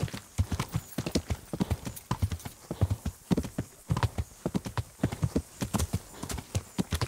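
Rapid, rhythmic clip-clop of horse hooves galloping in Kingdom Come: Deliverance, steady and close, continuing throughout with a slightly synthetic game-like quality.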